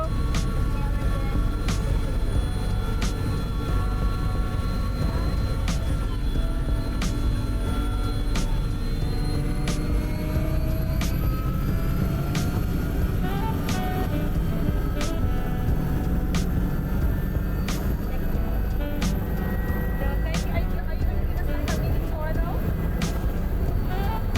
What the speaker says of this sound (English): So guys, so today we're in a helicopter.